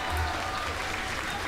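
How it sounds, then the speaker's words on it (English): Brief burst of audience applause for guests at a live debate-reaction stream, a dense, steady patter of clapping with no break. "Can we have a round of applause for these guys first?"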